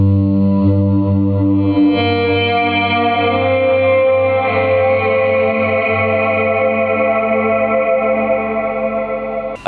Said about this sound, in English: you're getting all that nice washed out, low attack or no attack guitar sound, which sounds lush and ambient and beautiful